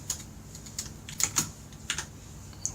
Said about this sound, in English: you write the word with basically normal keys